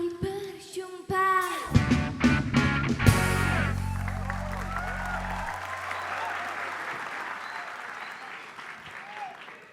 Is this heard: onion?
no